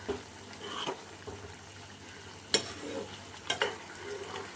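Avial, a Kerala vegetable curry, stirred in a cooking pot, with soft scraping and gentle wet sizzling throughout and two sharper clanks of the spoon against the pot, heard close.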